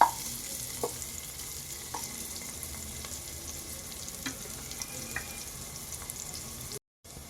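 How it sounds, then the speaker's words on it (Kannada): Onions frying until brown in a pan for chicken curry, giving a steady, even sizzle with a few soft stirring clicks and no talk. Sound cuts out briefly near the end. "ಬ್ರೌನ್ ಕಲರ್ ಬರೋವರೆಗೂ ಫ್ರೈ ಮಾಡ್ಕೋಬೇಕು."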